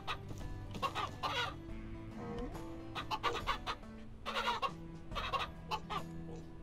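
Several chickens cluck in the video game Ranch Simulator, a steady stream of close, overlapping clucks and short squawks over a low background hum, with no talking.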